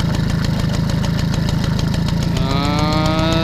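A Peugeot 103 Vogue moped engine without a variator idles steadily right after its first start, a close, even two-stroke putter with a faint rising whine near the end.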